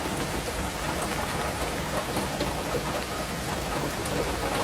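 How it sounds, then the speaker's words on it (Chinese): Heavy downpour drumming steadily on an electric tricycle camper covered with a rain tarp, a dense continuous roar of rain on the roof with no talking. "看这瓢泼大雨"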